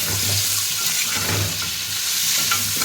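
Shrimp sizzle in hot oil, a loud, dense, continuous frying hiss with soft stirring scrapes underneath, close by and steady throughout.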